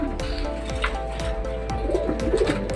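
Racing pigeons coo at a loft during a derby race as birds return, soft repeated coos over a steady low background hum with occasional light knocks, no talk.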